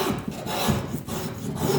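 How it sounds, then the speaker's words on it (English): A steel spokeshave rasps along the winding bevel of a wooden boat stem in steady, close, continuous shaving strokes with a dry scraping texture. "I find the spoke shave will follow the bevel around the front a lot better than a plane will"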